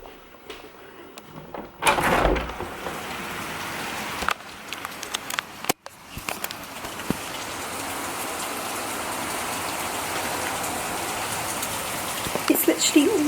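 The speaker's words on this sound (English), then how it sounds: "let's go to the balcony and see what it sounds like, because I personally love the sound of rain" Rain falling outside an open balcony door on a dark day, a steady close hiss of drops after a door slides and bumps open, with brief handling knocks.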